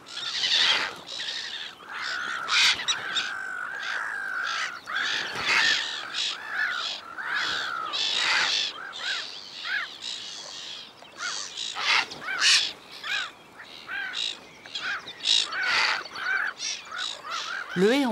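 Black-headed gulls call harshly and repeatedly, mobbing a heron hunting close to their colony on the northern French coast; dense overlapping raucous cries fill the scene continuously, loud and near.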